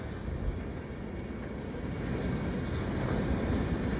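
A steady, heavy rumble of an empty wind-blade freight train of flat cars rolling past nearby at Pointe St. Charles, Montreal, in winter, continuous and unbroken, growing slightly louder toward the end.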